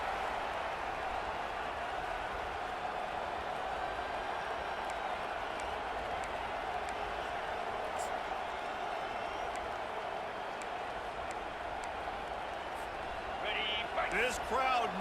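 A stadium crowd roars steadily throughout a College Football 25 game between Nebraska and Ohio State, a dense continuous wall of cheering with a brief burst of extra noise near the end, with game commentary talking over it.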